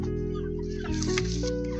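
Chickens cluck close by in a coop over a steady mechanical hum, brief clucks and squawks overlapping in the cramped space.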